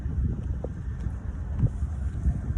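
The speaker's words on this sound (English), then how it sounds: "we got the wind blowing my scarf" Outdoor wind gusting against a microphone while blowing a vintage thrift-shop scarf, a low, steady rumbling buffet with soft fluttering bumps, fairly quiet and with no voices.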